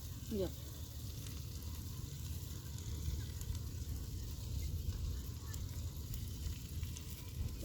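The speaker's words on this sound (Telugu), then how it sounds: "వాటర్ పోసేసాను కొంచెం." A frying pan seasoned with salt and chili powder sizzles steadily after a splash of water, cooked outdoors near a farm field; a continuous, fairly loud hiss and crackle runs the whole time without pause.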